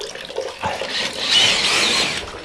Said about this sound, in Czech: Pouštím vodu, jo?